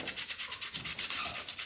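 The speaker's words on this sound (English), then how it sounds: "Right, so we just do a little bit more sanding." Sandpaper rubbed back and forth over a hand-carved wooden piece in quick, steady strokes, a close, breathy scratching rhythm of about six passes per second with no voices.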